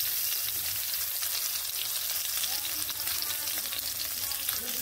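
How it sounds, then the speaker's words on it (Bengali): Eggplant pieces sizzle steadily in hot oil in a pan, gently stirred, a continuous crackling hiss close up with no voices. "বেগুনগুলোকে এইভাবে নেড়ে ভেজে নেব।"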